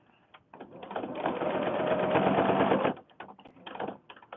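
A sewing machine stitches a fabric book in one rapid burst of about two and a half seconds, a loud, close mechanical whir bracketed by quieter clicks and handling noises.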